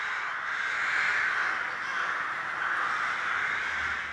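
Corvids caw loudly in a city, a dense, continuous chorus of overlapping harsh calls from many birds that fills the whole stretch without pause.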